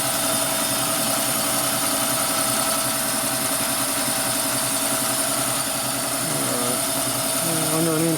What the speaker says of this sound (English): So the chamfer tool is this one. Like a 45-degree cut on it.